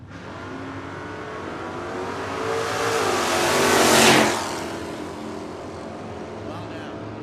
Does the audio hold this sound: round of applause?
no